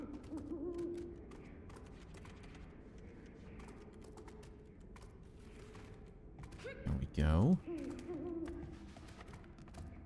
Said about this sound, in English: I can hear another owl.